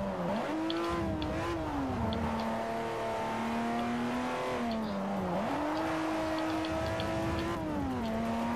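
BMW M car in the racing game Forza Horizon 4, its engine revving hard and holding a steady high drone with pitch rising and dropping through gear changes, loud and continuous.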